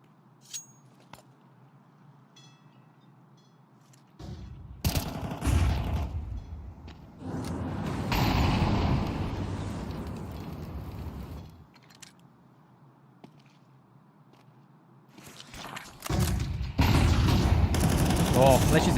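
Gunfire from a competitive shooter match: rapid bursts and volleys arrive in clustered bouts around the middle and again at the end. Quieter stretches between them carry low ambient hum, and a voice may be faintly present.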